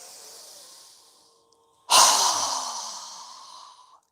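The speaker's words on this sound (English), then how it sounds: "So go ahead and inhale." A deep breath taken during a yoga breathing exercise: a quiet airy breath fades out, then after a brief pause a loud, close, rushing inhale begins and slowly tapers off.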